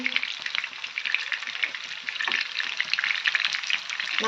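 Fish pieces, six or seven of them, frying in a pan with a steady, dense sizzle and crackle throughout, with occasional stirring scrapes and no talking.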